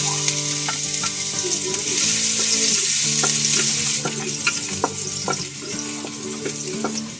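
Garlic frying in hot oil in a pan with bok choy, a steady loud sizzle with scattered crackles and a few utensil taps, close and continuous with no talking.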